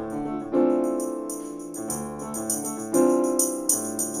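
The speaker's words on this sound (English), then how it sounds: "Now, obviously the tambourine is very loud" Loud tambourine track playing back in GarageBand on a Mac over a sustained musical backing, with bright jingling shakes recurring in a steady rhythm throughout, no talking.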